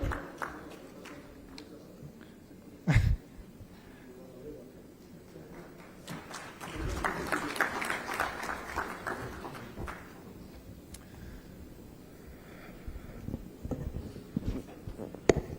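An audience at an international aerospace manufacturing conference in Visakhapatnam applauds the IT minister of Andhra Pradesh; moderate, scattered clapping swells for several seconds in a large hall, then fades under an announcer's voice.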